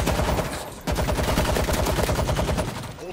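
Heavy stationary mounted gun in the zombie shooter World War Z, firing a loud continuous stream of rapid, evenly spaced shots with only a brief break partway through.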